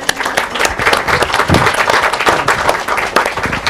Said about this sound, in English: That's an applause